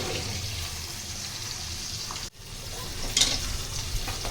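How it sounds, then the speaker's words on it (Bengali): Tangra fish fry in hot mustard oil in a wok, giving a continuous crackling sizzle that surges briefly after a short break, close and fairly quiet, with no talk. "এবার আমি মাছগুলো সব ভেজে নেব।"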